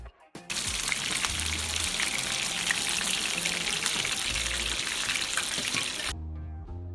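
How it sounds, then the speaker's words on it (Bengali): Chicken pieces fry lightly in hot oil for a homemade morog polao, giving a loud, steady, close sizzle that starts abruptly and runs unbroken for about six seconds before cutting off. "আমি এখানে মাংসগুলোকে একটু হালকা করে ভেজে নিচ্ছি।"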